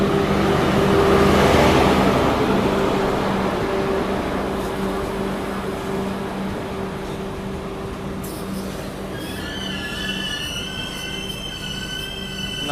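The Khongsang Jan Shatabdi Express, hauled by an electric locomotive on Indian Railways, rumbles into the station with a loud, steady roll, then its wheels squeal in high sustained tones.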